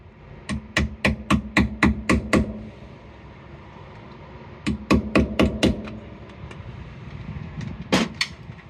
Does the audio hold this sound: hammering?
yes